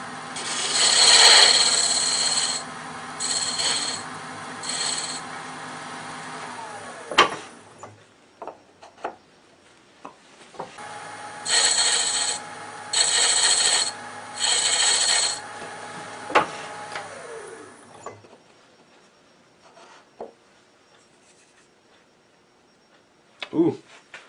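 Parting tool cutting wood on a lathe while turning a mushroom box, a rasping scrape in two long bursts separated by a pause, with scattered ticks and knocks afterward.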